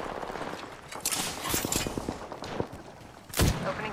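Gunfire in the video game Apex Legends: short rapid bursts of automatic shots, close and fairly loud, with a heavier blast near the end, no voices.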